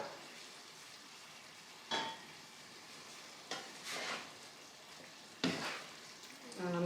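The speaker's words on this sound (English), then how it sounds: "Give it a good stir." Onions frying and caramelizing in a pan, a soft low sizzle with three or four distinct scraping stirs of a utensil spaced a couple of seconds apart, quiet and close, no speech.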